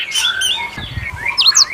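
Thrush nightingale sings in an imported bird setting, with rich whistled phrases, rising and falling notes and sharp chirps across the whole short stretch, loud and close, no voices.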